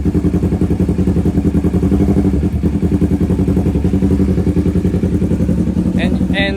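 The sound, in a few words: Honda CB650R motorcycle exhaust sound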